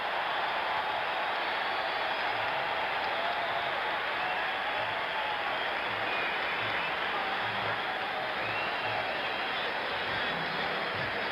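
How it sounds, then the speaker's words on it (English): A 1975 NBA playoff crowd at the Hawkeye Pavilion roars in a continuous wash of cheering and clapping, a steady dense din that neither builds nor fades. "Listen to this crowd in the Hawkeye Pavilion."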